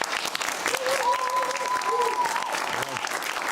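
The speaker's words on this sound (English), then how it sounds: "Big round of applause." Studio audience applause on a television talk show, a steady clapping wash throughout with other sounds mixed in over it.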